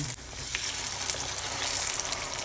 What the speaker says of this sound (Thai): น้ำมันร้อนแล้วเราก็ทอดได้เลยนะคะ